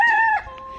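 A brief chicken call, a short clear crowing note followed by a softer tone, close and alone.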